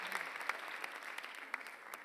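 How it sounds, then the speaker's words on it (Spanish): A church audience at a special service with a comedian claps together in a fairly faint, steady patter of many hands, heard from some distance. "Dense un aplauso ustedes ahí entonces"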